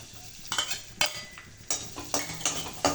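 Garlic cooking in a little oil in a pan, with a metal spoon scraping and stirring in sharp, irregular clinks over a faint low sizzle.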